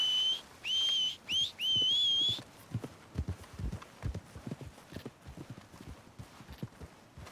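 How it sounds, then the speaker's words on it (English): Horse hooves clip-clop steadily in a ranch roleplay video game, a string of near, moderately loud footfalls that follows a few sharp rising whistles at the start. "It looks like your horse is moving around a little."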